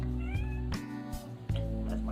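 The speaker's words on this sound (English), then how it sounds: "That's my cat." A house cat meows several times in close succession, loud and near, with drawn-out tonal cries and a short break between calls.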